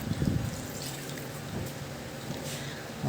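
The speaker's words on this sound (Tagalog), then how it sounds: "Mag-add din ako ng tubig." Water poured into a pan of stir-fried meat seasoned with oyster sauce, a steady splashing and trickling sound lasting a few seconds.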